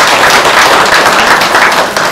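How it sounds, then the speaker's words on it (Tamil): An audience at a Jayanthi function in Chennai gives a round of applause, dense steady clapping from many hands, loud and close, with no talk over it. "ஒரு கைத்தட்டல் தட்டிடலாம்"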